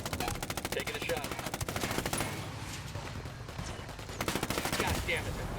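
Rapid automatic gunfire in the video game Ghost Recon Wildlands, loud bursts of rattling shots with a short lull in the middle before firing resumes.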